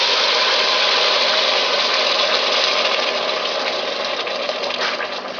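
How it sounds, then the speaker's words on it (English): Chicken stock is poured back into a soup pot of sweated vegetables, making a loud, steady rushing splash that holds for several seconds and eases slightly near the end. "this is the stock from the chicken. We're pouring her straight back in."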